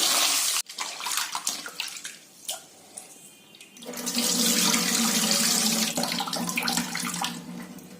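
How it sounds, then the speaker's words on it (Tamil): Water splashes and sloshes in a bowl as foxtail millet is rubbed and stirred by hand, first in scattered bursts, then with a steadier pour of running water. "போட்டுட்டு 2 தடவை நல்லா பிசைஞ்சு கழுவிடுங்க."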